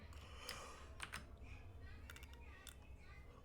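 Computer keyboard keys pressed to paste in a SketchUp drafting session, giving a few sharp clicks spaced through steady low room hum with no voices.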